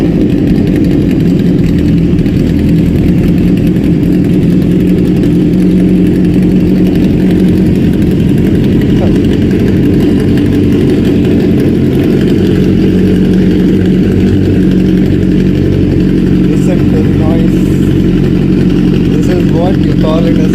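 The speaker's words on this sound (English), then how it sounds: "So you will know why it is called a sleeper Hayabusa once the bike is started." A modified sleeper Suzuki Hayabusa motorcycle engine runs at idle, a loud, steady low rumble close by with slight fluctuations, while people talk over it.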